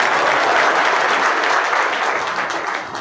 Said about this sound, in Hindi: चलो तालियां बजाओ।